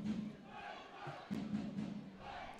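Football stadium crowd during a match between Finn Harps and Athlone Town, a steady distant murmur of many voices with a brief swell of chanting midway, no distinct cheering.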